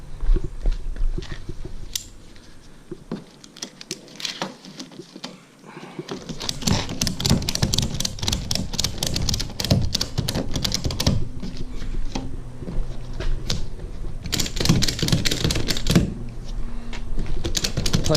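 A ratchet strap is cranked tight to secure an Ultraskiff 360 round boat on a trailer, producing bursts of rapid, close, sharp clicking separated by brief pauses.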